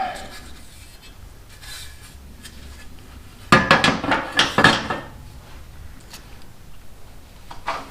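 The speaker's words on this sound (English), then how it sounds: "gonna have to whack on that one a little bit" Sharp metallic hammer blows on a stuck overdrive part of a 1984 Honda Shadow 500 motorcycle, a quick cluster of five or six loud close strikes after quieter fiddling with metal.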